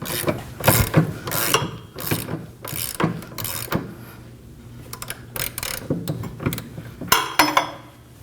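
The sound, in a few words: ratchet with 19mm socket tightening Kia Optima rear brake bolt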